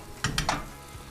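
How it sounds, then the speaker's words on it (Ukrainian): Lavash rolls filled with mushrooms and dill frying in a pan after being flipped, with a brief burst of sizzling and a few quick scraping touches, close and moderately quiet, without talking. "Підсмажуємо з двох боків."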